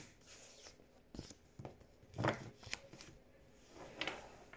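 Cards being shuffled and drawn during a card reading, a series of soft flicks, slaps and riffles spaced irregularly, close and moderately quiet with no talk over them.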